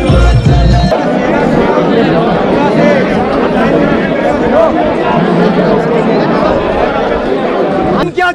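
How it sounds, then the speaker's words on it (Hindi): A large, dense crowd of pilgrims at Kedarnath temple on the day its doors open, a loud continuous hubbub of many voices and chatter close around, with shouting blended into the babble. "भाई आज भीड़ देख लो कितनी, आज कपाट खुले, खतरनाक वाली भीड़ है आज"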